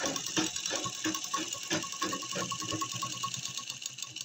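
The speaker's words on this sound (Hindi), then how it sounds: "मशीन थोड़ी हमें भारी सी चलने लगती है। तो ऐसे बिल्कुल एकदम इसको ऐसे करके सफाई से इस तरह से इसमें हम इस तरह से सिलाई लगाते हैं" Sewing machine stitching a belt onto a readymade saree, a close, steady rapid clatter of the needle mechanism running continuously and somewhat heavily.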